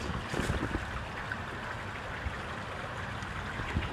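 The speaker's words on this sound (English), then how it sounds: "Bit of water running." Water runs across a rain-flooded sheep field, a steady broadband rush like a stream with some wind noise mixed in, continuous and fairly close, with no talking.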